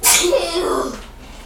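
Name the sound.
sneeze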